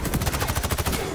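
Gunfire striking the player in the video game XDefiant, a quick, regular rattle of automatic shots, about a dozen evenly spaced cracks in a second, loud and near.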